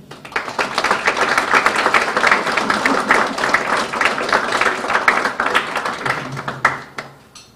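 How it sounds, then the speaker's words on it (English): An audience applauds at a folklife apprenticeship programme event, dense and loud clapping holding steady for about seven seconds before thinning out at the end, with no talk over it. "Another round of applause, please, for Gail Palacio and Shirley Thomas."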